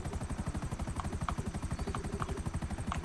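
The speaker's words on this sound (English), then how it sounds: "jump in that helicopter, because we've only got 24 minutes left" Helicopter in GTA Online, a steady rapid rotor chop with low engine drone, loud and continuous throughout without voices.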